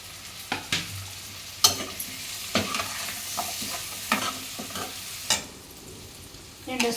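Sliced drumstick pieces fry with turmeric in a pan for Andhra-style munakkaya pulusu, a steady sizzle broken by a series of sharp spoon scrapes and stirring clatters, close and alone with no talk.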